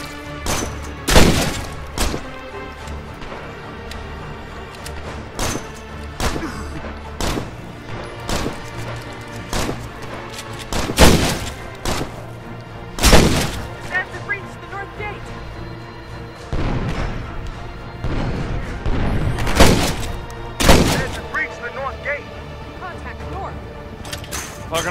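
Gunshots in the zombie survival game State of Decay: Lifeline, sharp booming blasts fired in scattered bursts over a low game backdrop, some shots loud and close, others softer.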